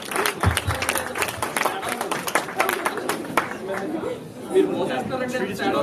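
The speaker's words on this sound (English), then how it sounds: "give a big round of applause to Anjan" An audience at a graduation celebration claps in a steady round of applause mixed with crowd chatter, and a voice talks over it.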